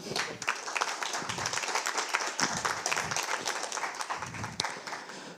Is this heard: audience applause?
yes